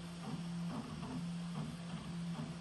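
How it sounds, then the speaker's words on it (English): A Prusa XL 3D printer prints its first layer with a quiet, rhythmic buzzing of stepper motors whose pitch rises and falls in repeating movements, close by and steady, with no talking. "There's a small bit of noise to it, but I mean, for a 3D printer,"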